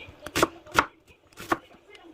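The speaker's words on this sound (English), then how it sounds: "let's cut it into two" A kitchen knife chops an onion on a cutting board in three crisp, evenly spaced knocks with lighter taps between them, close and clear with no talking.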